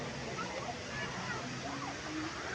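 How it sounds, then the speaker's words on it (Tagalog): The waterfall at Hinulugang Taktak in Antipolo roars as a steady, fairly faint wash of rushing water, continuous and unbroken, with people talking faintly over it. "Andito yung talon."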